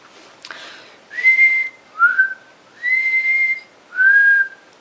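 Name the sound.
person whistling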